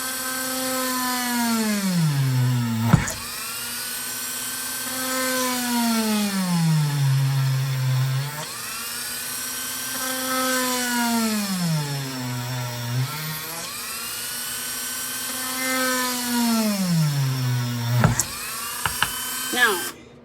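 A hand drill bores a row of spaced holes for a woven angel craft, its whining motor pitch sweeping down and back up in repeated cycles, with a few sharp clicks between passes.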